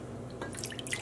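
Water rinsed through a funnel drips and trickles in a quick cluster of small bright drops, close and soft over a faint steady background.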